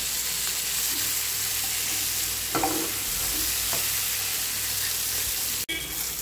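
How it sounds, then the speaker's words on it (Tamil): Chicken pieces frying in a little coconut oil for Arabian mandi biryani, a steady broadband sizzle throughout with a couple of soft stirring scrapes and a sharp knock near the end. "சிக்கன் வந்து நல்லா ஃப்ரை ஆகிடுச்சு"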